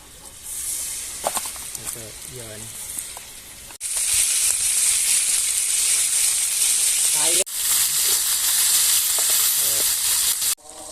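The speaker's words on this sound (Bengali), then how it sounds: "এখন আমরা মাছগুলা দিয়ে দিচ্ছি তেলের মধ্যে।" Hilsa fish dropped into hot oil on a clay stove: a loud, continuous close sizzle that surges in two sharp bursts as pieces go in, with someone talking briefly at the start.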